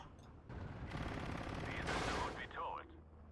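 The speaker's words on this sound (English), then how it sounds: "All these MGs just opening up onto the Strelki DP." Machine guns firing in the WWII strategy game Steel Division 2, dense overlapping rapid bursts forming a continuous rattling roar that swells and then eases, heard at moderate distance without talk.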